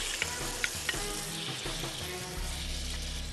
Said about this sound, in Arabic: هنزل بقى بالشاورما في الطاسه